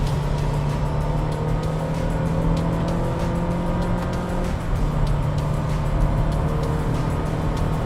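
A 2020 Honda City petrol engine drones steadily under load from inside the car, with a constant low hum and road noise that holds fairly even as the throttle eases for an upshift.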